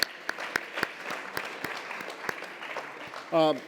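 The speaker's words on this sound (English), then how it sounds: "round of applause for all of our judges" Applause for the judges at an awards ceremony, a moderate crowd clapping steadily with sharp individual claps standing out, ending as a voice begins speaking.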